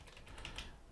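Soft, rapid keystrokes on a computer keyboard while code is typed, faint and close, forming a short, uneven burst of clicks.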